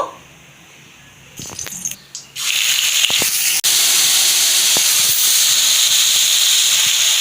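Nigella seeds sizzle in a hot wok on a gas stove. After a quiet start and a brief clatter, a loud, steady hiss begins abruptly and continues close up.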